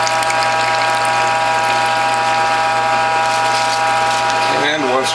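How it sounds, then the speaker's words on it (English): A Norwalk juicer press squeezes water out of cloths into a container, giving a loud, steady mechanical hum with a constant motor drone that shifts slightly near the end. "we'll press the water out of these cloths"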